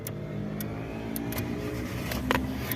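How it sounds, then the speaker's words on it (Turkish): A Hyundai Getz car engine runs in neutral right after starting, a steady close mechanical hum with slight revving swells throughout. "Şimdi vitesi boşa alıyorum ve motoru çalıştırıyorum."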